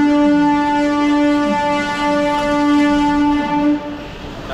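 A sustained, loud horn from the 12346 Saraighat Superfast Express as it pulls into Howrah station, sounding for several seconds without a break over the rumble of the train, with no voices.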